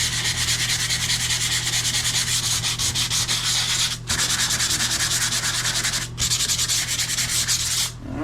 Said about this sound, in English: Let's get all that sanded right there.